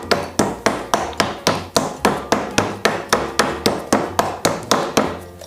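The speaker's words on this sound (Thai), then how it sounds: "เวลาทุบก็ทุบอย่างนี้ครับ เนี่ยครับ ต้องทุบแรงนะครับ" A hammer pounds a piece of grilled beef for a Thai dish served with jaew dipping sauce: about seventeen loud, evenly spaced thuds, close by and steady, with no talking.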